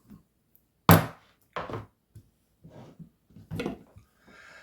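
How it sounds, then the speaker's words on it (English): A knife chops an onion on a cutting board for smoky cream of pumpkin soup, a few distinct close thuds with uneven gaps between them in a quiet kitchen. "first you want to chop up your onion"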